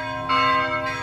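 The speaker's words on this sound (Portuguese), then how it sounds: "Estão tocando o sino." A church bell rings out loudly in a churchyard in Holambra, Brazil, one bright resonant strike with a rich shimmering tone that rings on through the brief moment.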